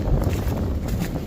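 Gusty wind buffets the microphone on a cold, clear morning along the Appalachian Trail, a steady low rumble with soft surges throughout, heard alone.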